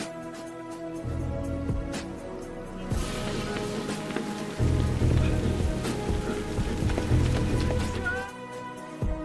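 Heavy rain pours steadily, with dense patter and splashing drops hitting surfaces close by, loud and continuous.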